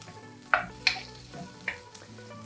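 Frozen broccoli hisses in hot butter in a pan, a steady soft sizzle with a few sharper pops and crackles standing out, close and fairly quiet, no voices.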